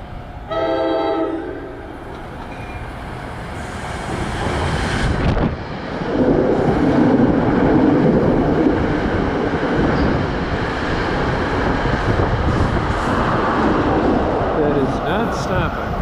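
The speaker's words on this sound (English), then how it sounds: "And here comes an inbound train." An inbound commuter train on the Morris Essex Line passes South Orange station in New Jersey without stopping. A horn sounds first, then a loud, sustained rumble and rush of rail cars builds close by, with wind buffeting the microphone.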